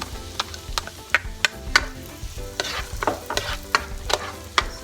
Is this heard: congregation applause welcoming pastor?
no